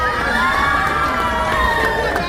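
Crowd at a St. Patrick's Day parade in Fermoy cheering and calling out, dense continuous shouting and cheers with children's voices mixed in, loud and close throughout.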